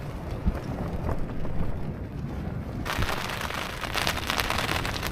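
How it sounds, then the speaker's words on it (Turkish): Rain and gusting wind beat against a tent during a storm, a dense steady patter with rushing wind that grows brighter and heavier partway through, close and continuous with no voices. "Sağdan soldan her yerden yağmur alıyoruz"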